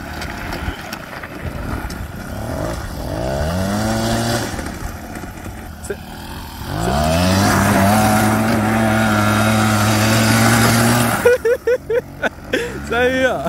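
A homemade 100cc pallet go-kart engine revs and accelerates in rising, buzzing sweeps that swell loudly and fall back, then surges again, on wet ground outdoors. A few voices are heard near the end.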